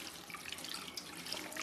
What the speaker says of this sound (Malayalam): കുക്കറിനകത്തോട്ട് ഈ മുളക് ഇട്ട് ഒരല്പം വെള്ളവും കൂടെ ഒഴിച്ചേക്കാം